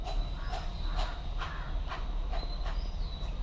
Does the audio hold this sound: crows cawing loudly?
yes